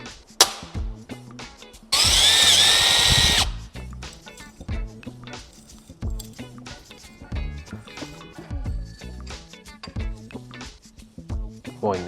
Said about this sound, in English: I'm going to drill and tap those two holes